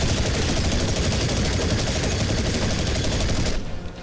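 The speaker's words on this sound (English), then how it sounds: "Minigun bullets." Continuous minigun fire roars in The Chronicles of Riddick: Escape from Butcher Bay, a loud unbroken rapid burst that cuts off abruptly near the end.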